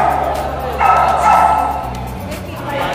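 Dogs bark and yip at an American Bully dog show, a few close barks with crowd chatter and voices talking throughout.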